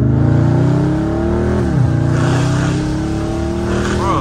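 A loud, raspy catless exhaust on a Scat Pack revs and accelerates, the engine pitch climbing steadily with a brief dip midway, continuous and close.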